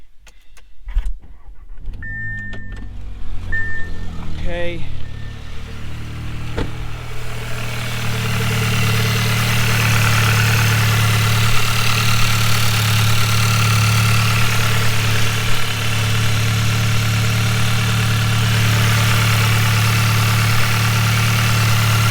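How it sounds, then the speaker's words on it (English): An Audi S3 / Mk7 Golf R fitted with a flex fuel kit cranks briefly and catches, then settles into a loud, steady idle that fills the rest of the stretch. A single short spoken word comes early, before the engine fires. "let's start up the car and see"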